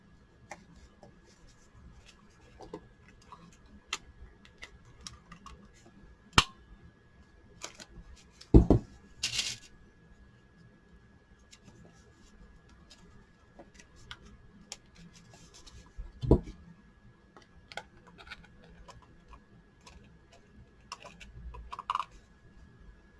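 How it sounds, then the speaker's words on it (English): Eyelets set through a stack of paper for a gate fold folder: faint, sparse clicks and sharp taps with a few louder punches and handling rustles, quiet and close. "Just eyelet this stack of paper together."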